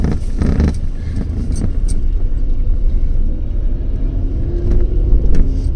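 A car driven through Jodhpur traffic, its engine rumbling loudly and steadily from inside the cabin, with brief revving swells and road noise throughout.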